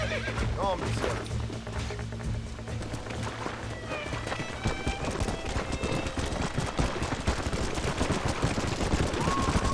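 Horses whinny and hooves clip-clop in the Red Dead Redemption video game, mixed with scattered gunshots and character voices speaking throughout.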